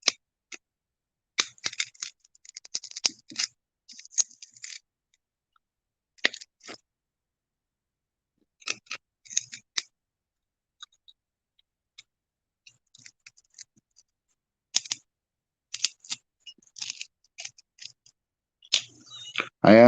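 Circuit board gold fingers being broken into small pieces give sharp, quiet snaps and clicks in irregular bursts separated by silent pauses.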